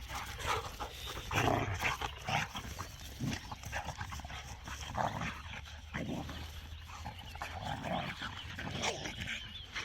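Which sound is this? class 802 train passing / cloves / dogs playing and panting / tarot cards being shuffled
dogs playing and panting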